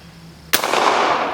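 A single sharp gunshot from a rifle firing .45 Long Colt at a 2-liter bottle, a sudden loud crack after a quiet moment, followed by a lingering outdoor echo and rumble.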